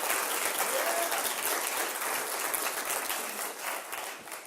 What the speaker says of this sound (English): for Colin and the whole team at Nexus, please give it up for them and all the speakers who have made this event possible